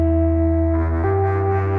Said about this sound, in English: this simple chord is the result of 2 Hz Donut Mark II controlled by the Argos Bleak